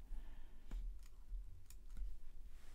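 Faint, sparse keyboard clicks from someone typing a note on a computer, a few scattered keystrokes over a low background hum, with no voices.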